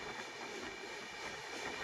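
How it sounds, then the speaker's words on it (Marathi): The Deccan Queen Express runs at speed, a faint, steady rushing rumble of rolling wagons heard from aboard, with no voices. "आता मस्तपैकी आपल्या डेक्कन क्वीननी स्पीड पकडलेली आहे"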